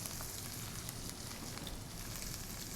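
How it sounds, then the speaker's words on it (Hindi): Hing, ginger and chili tempering in hot oil for Delhi-style chole, a dense, steady crackling sizzle that holds evenly throughout, close and without talk. "एक बार ये हल्का सा हमने तड़का बनाया"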